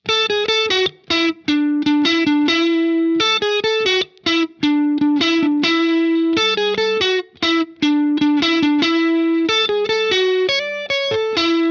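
A distorted electric guitar plays a fast, repeating riff of sharp picked notes with brief gaps, loud and up front with effects.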